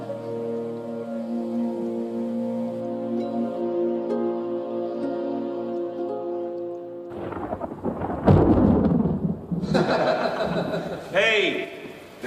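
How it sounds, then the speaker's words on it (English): Rain begins with rolling thunder after a stretch of music-like tones, the downpour and a loud crack of thunder arriving together midway and staying prominent to the end. "Is that raining yet? Just started."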